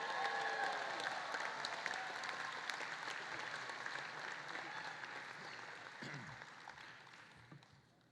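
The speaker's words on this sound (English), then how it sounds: "Can we hear a little applause for them?" Audience at the Walled Lake Central 2025 commencement applauds the state champion marching band, a dense, steady wash of clapping from a large crowd that holds loud throughout and tapers slightly toward the end.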